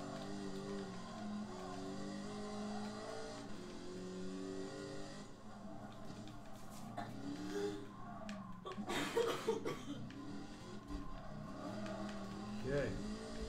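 A car in the Gran Turismo Sport racing game drives on a mostly dirt road with a steady engine drone that rises into revving bursts, playing under ongoing speech and some chuckling.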